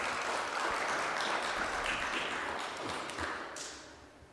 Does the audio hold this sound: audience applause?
yes